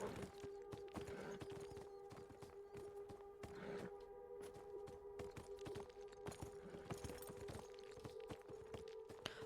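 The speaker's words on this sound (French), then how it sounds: "Avance le cheval." Horse hooves clip-clop in the video game Beyond Two Souls, a steady stream of hoofbeats over a constant tonal game hum across the whole stretch, moderately loud with no talk.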